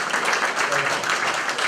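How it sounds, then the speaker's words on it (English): An audience at a community event in Redlands applauds two special guests, a dense steady clapping sustained for the short stretch, with a voice mixed in over it. "can we give a round of applause for our two special guests?"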